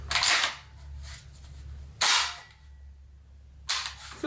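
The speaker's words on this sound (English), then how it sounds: "Let me feel this trigger." A Black Aces Tactical Pro Series X semi-auto shotgun is dry-fired while empty, giving three sharp, close metallic clicks at irregular intervals over a faint low hum.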